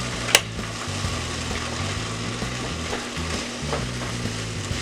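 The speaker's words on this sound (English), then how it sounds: "Now we're just going to dump that pasta right in there" Rotini pasta is dumped into sauce in a hot pan and starts a steady, close sizzle with faint stirring scrapes, opening with one sharp clink and then a continuous frying hiss.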